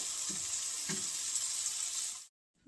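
Eggs frying in a pan late at night in a home kitchen, a steady close sizzle with a couple of faint low knocks, cutting off abruptly near the end into silence.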